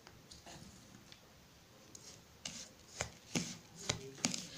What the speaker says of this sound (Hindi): मैंने करीब एक बड़े चम्मच ऑयल लिया है, सरसों का तेल, उसको इसमें अच्छे से मिक्स कर लेते हैं।